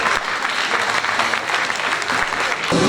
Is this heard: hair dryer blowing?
no